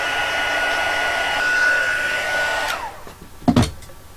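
Heat embossing tool blowing hot air steadily and loudly for nearly three seconds, then cutting off, followed by a couple of soft handling knocks.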